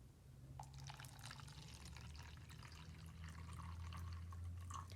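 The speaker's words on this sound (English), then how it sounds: "we're going to start by pouring some water into our beaker" Water is poured into a laboratory beaker for an electrochemistry experiment, a faint continuous trickle and splash with small droplet sounds over a low steady hum, no speech.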